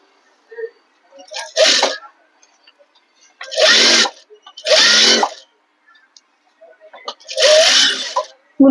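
A sewing machine stitching the back neck seam of a blouse, running in four short bursts of a second or less, separated by pauses, close and moderately loud with no talking over it.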